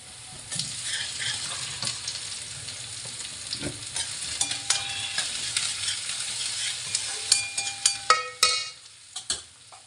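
Ginger garlic paste is tipped into hot oil and stirred, giving a close, steady sizzle with scraping spoon strokes. A run of sharp clinking taps comes near the end.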